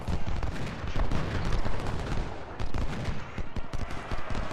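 Cannon and musket fire from a Civil War battle in Ultimate General: Civil War crackle in dense, overlapping volleys, with loud booms and rapid shots rolling continuously without pause.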